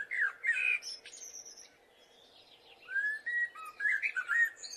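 A character mimics a mother bird's call in front of a nest: bright chirps, squawks and whistles come in a lively burst, pause briefly, then return as a busier run of tweets, with no talking.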